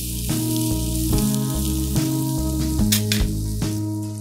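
Chopped onion frying with fennel in a pan gives a steady, close sizzle throughout, with no talking.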